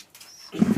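Pigeons in a home loft give a brief, close coo after a moment of soft rustling.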